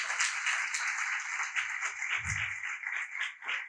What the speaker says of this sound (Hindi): पुरजोर तालियां बजाएं यीशु के लिए